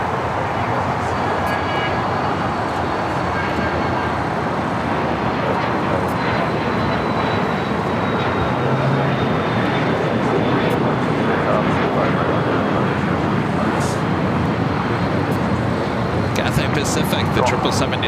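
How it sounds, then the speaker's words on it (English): A Boeing 777-300ER in from Hong Kong taxiing at LAX toward the Tom Bradley terminal, a steady broad jet engine roar with a faint whining tone, sustained and fairly close, with voices in the background. "the 777-300ER coming in from Hong Kong and now making its way over to Tom Bradley"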